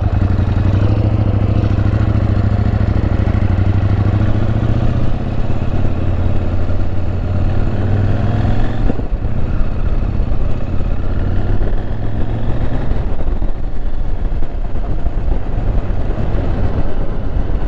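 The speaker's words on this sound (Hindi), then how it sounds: "this is KTM 790 adventure first in Pakistan" Engine of a KTM 790 Adventure motorcycle running near Lipa Valley rice fields in Kashmir, a loud, steady low rumble with mechanical clatter that holds continuously, with only slight shifts in tone partway through and no speech.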